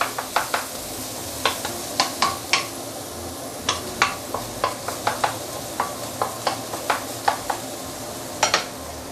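Shallot and garlic frying in oil flavored with sausage for egg fried rice, an even sizzle broken by a regular run of sharp scraping clicks as a utensil stirs against the pan, about two strokes a second.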